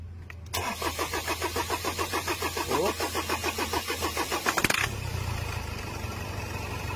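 A Ford engine with a hard-starting fault cranks in a long run of rhythmic, even starter pulses for about four seconds, catches briefly with a rougher burst, then settles into a low steady idle.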